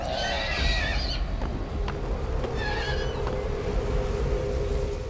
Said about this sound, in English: I want that horse!